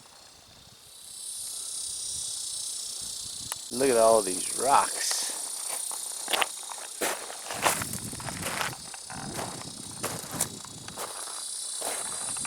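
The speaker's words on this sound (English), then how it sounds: "those cicada bugs ain't helping out at all" Cicadas drone in the hot Arizona outdoors among rocks, a steady high-pitched buzz that runs throughout while someone talks and footsteps crunch nearby.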